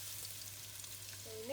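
Egg fries in a pan for prawn fried rice, a quiet, steady sizzle with faint crackles, and a brief tonal clink near the end.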